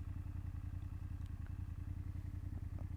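A BMW F800GS motorcycle engine putters at low speed with a steady, rapid low-pitched throb, fairly quiet and without talking.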